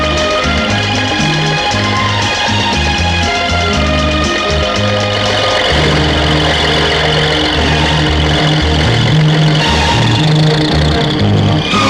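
A tractor labours in a ploughed field with its plough stuck, its engine droning and revving in low, throbbing pulses that hold loud and close for the whole stretch.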